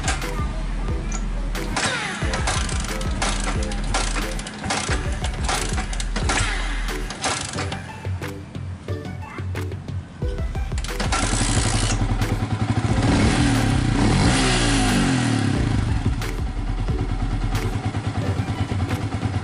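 A car engine idling at low RPM, around 1100, during an exhaust CO check, giving a loud close rumble with clattering and thumps. The engine note shifts and grows denser partway through.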